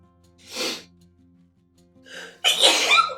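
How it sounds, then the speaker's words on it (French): A single close, sharp sneeze bursts out in a quiet room, preceded by a brief breathy inhale and a short catch of breath just before it. "J'ai envie d'éternuer."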